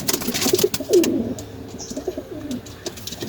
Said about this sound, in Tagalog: Ito mga kalapatids oh.